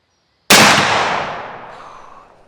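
A single sharp, loud rifle shot fired at a ballistic gel block at 100 yards, with a sudden crack followed by a long echo fading over two seconds outdoors.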